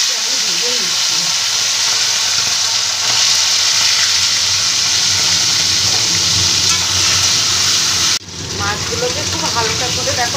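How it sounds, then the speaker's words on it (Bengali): Small fish fry in hot oil in a wok with a loud, continuous hissing sizzle close by, with a brief drop and bubbling crackle near the end while a voice talks over it. "মাছগুলোকে আস্তে আস্তে আমি ভেজে নিচ্ছি"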